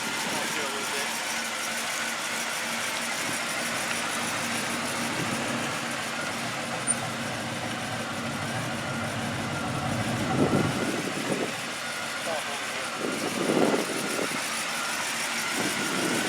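A 1996 Chevrolet Impala SS with a 383 V8 running at a steady idle nearby, then a couple of short surges of revving near the end, with a person speaking over it.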